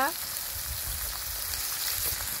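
Ground spices sizzling steadily in hot oil in a pan while a Bengali village curry is cooked, a continuous close crackle and hiss with no break.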